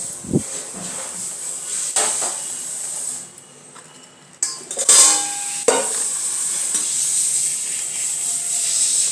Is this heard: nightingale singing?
no